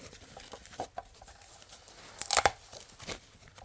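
Packaging being unwrapped from a Solo Mining Mars lander cryptocurrency miner, soft crinkles and rustles building to a short burst of loud tearing and crunching, close by with no talk.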